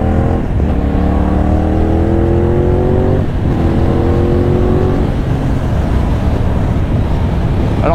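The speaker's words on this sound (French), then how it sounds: "la sonorité de cet échappement est vraiment sympathique" A CFMOTO 450NK motorcycle engine and exhaust while riding, a steady droning tone with rising and falling pitch as the throttle shifts, under constant wind rush throughout.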